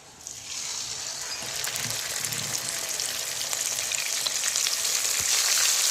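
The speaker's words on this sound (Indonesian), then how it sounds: "Yuk, kita lanjut goreng" Chili spice paste for balado sizzles and crackles in a frying pan. The hiss is steady and close, starts suddenly and grows slightly louder, with faint stirring noises and no talk.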